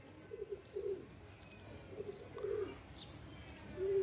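A male pigeon coos softly in short repeated low phrases, with faint chirps from other birds in the background and no talking.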